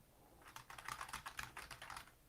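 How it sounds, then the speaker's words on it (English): An old computer keyboard clicking in a quick, irregular patter of keystrokes, faint and somewhat distant, with no voices over it. "Can you hear the tickety tick?"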